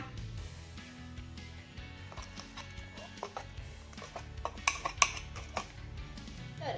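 A spoon scrapes and clinks against a steel mixer jar and bowl as freshly ground chutney is scooped out, with sparse taps early that build into sharper metallic knocks near the end, close and alone.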